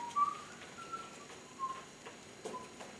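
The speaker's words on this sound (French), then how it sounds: "Il siffle, c'est un tic." A man whistling as a nervous tic, a few short faint tonal whistles scattered over a quiet background, near but soft, with no talking.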